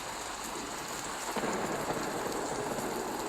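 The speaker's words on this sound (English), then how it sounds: "A light rain starts." Light rain played as a stage sound effect during a theatre performance, a soft, steady patter that thickens slightly halfway through, continuous and even with no voices.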